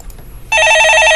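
A telephone rings loud and close in a radio studio during a stock-market call-in show, the bright trilling bell starting abruptly halfway through and continuing steadily, with no voices over it.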